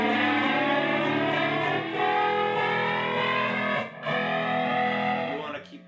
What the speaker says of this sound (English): you have to use a phaser or flanger before or after the fuzz pedal.